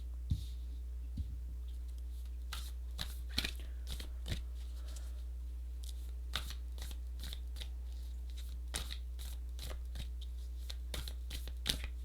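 Tarot cards being handled and shuffled at a reading, a close series of crisp irregular flicks and slaps spread over several seconds, over a low steady hum, with no talking.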